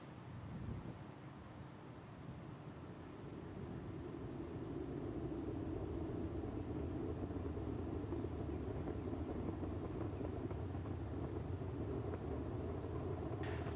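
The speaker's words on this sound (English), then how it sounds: "Falcon 9 has successfully lifted off from Launch Complex 39A at the Kennedy Space Center" SpaceX Falcon 9 rocket climbing after liftoff from Launch Complex 39A at Kennedy Space Center, a steady distant low rumble that swells slightly and then holds, fairly faint.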